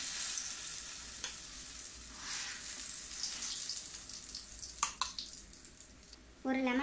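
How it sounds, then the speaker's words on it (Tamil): Ground masala paste and green chillies fry in hot oil for a Kerala-style fish curry, giving a close, steady sizzle with a few stirring clinks and a brief sharper crackle near the end. "கூடவே நம்ம அரைச்ச மசாலாவையும் சேர்த்துக்கலாம்."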